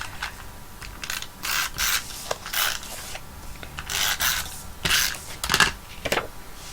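Card stock being trimmed with a paper trimmer, a series of short rasping slicing strokes in uneven bursts, close and fairly quiet, with no talking.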